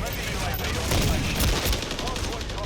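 Rapid gunfire from an MCPR 300 sniper rifle in a video game, loud dense bursts of shots over a continuous noisy battle mix, with a few louder impacts partway through.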